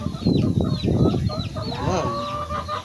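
Chickens clucking up close, a busy run of short throaty clucks followed by a rising, drawn-out squawk.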